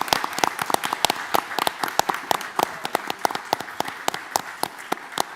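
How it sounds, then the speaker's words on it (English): Applause at a school board meeting, a small audience clapping with distinct individual hand claps audible in an uneven, fairly sparse rhythm, moderately quiet and without talk. "Please join me in giving them another round of applause as we celebrate them."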